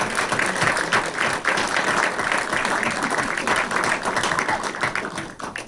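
An audience at a township council meeting breaks into a round of applause, continuous crowd clapping that holds steady and eases slightly at the end.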